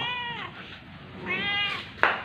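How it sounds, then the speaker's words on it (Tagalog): A cat meows twice, drawn-out harmonic cries close by, the second ending in a sharp bright burst. "ayan po ang pusa namin makulit"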